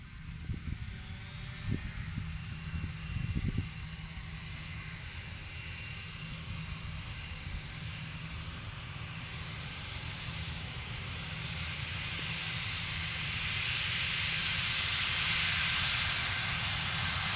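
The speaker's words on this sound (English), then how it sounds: "you can see the Airbus now" Airbus airliner taxiing at Inverness Airport, bound for London Heathrow, gives a steady engine whine and rumble that slowly builds louder toward the end, with a few low thumps early on and no talking.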